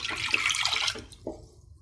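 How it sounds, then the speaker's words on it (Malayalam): Water poured from a one-cup measure into a pan for sugar syrup for a Rosbora sweet, a close steady splashing pour that tails off into a few short drips and trickles. "റോസ്ബറ സ്വീറ്റിന് ആവശ്യമായ ഷുഗർ സിറപ്പ് ഉണ്ടാക്കാനായിട്ട് ഞാനിവിടെ എടുത്തേക്കുന്നത് 1 കപ്പ് വാട്ടറാണ്."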